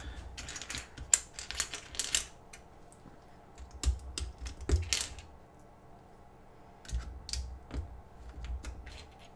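Keycaps are pushed onto a mechanical keyboard board one after another, making sharp plastic clicks and snaps in uneven bursts with short quiet gaps, close up and with no talking.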